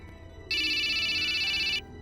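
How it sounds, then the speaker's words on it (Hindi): A mobile phone rings with an incoming call, a bright steady electronic ringtone that starts abruptly and holds for just over a second before cutting off, over a quiet low room background. "मोबाइल पर किसी का कॉल आया"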